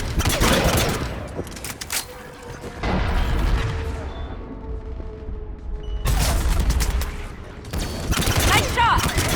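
Sustained gunfire from a Mass Effect 3 firefight, bursts of loud rapid shots and booms in two heavy stretches separated by a quieter lull, with voices speaking over the combat.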